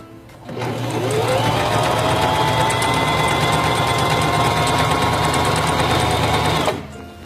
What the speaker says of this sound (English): Place the fabric under the presser foot, lower the presser foot,